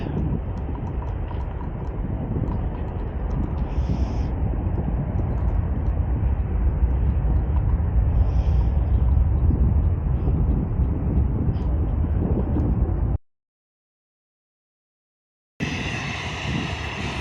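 An airliner taking off from Manchester Airport bound for Orlando, a loud continuous engine roar close by with a few faint higher tones, cutting abruptly to silence before resuming briefly.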